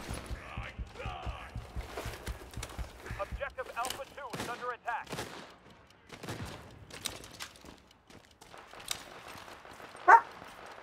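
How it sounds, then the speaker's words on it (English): A pet dog barks in short repeated bursts, then whimpers and yips with a few sharper outbursts, heard fairly close amid a quiet room, with a person speaking softly at times. "She's gonna start howling now."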